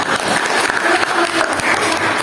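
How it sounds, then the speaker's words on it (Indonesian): Audience applause from a school class after a presentation, a steady patter of many hands clapping at close range, fairly loud and continuous for a couple of seconds. "Jadi kita beri aplaus buat semuanya, ya."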